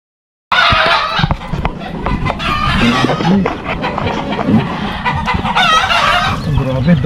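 Chickens cluck and crow in a crowded coop with chicks, a dense continuous chorus of fowl that stays loud throughout, with a rooster's crow rising over the steady clucking.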